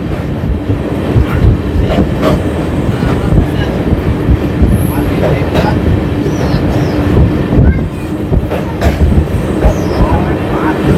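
Sairang Kolkata Express running on rails near Murshidabad Junction: loud, close, continuous wheel rumble with rhythmic clickety-clack and occasional high squeals.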